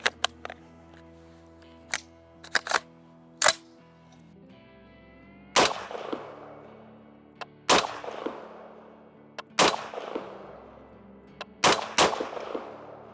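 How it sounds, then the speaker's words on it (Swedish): Sharp shots from a Heckler & Koch MR308 A3 rifle fired one at a time with pauses between, loud and close, each followed by a short echoing tail. "Men vi provar några skott här."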